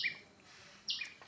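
A small bird perched close at a window gives two bright, high chirps, one at the start and one near the end, clear and near over a quiet background.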